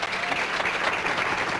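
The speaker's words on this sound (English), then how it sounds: "applauds herself a little bit there" Steady applause fills a women's professional bowling match at a 1997 tour event in Delaware, a dense, continuous patter of clapping with no voices standing out.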